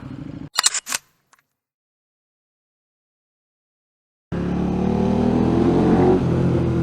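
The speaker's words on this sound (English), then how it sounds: "Oh, the noise of the bike against the stone." An older motorcycle engine, such as a BMW GS or Honda Africa Twin, rumbles loudly and steadily against stone walls on a Scottish Highland road, arriving suddenly after a few brief knocks and a long silence.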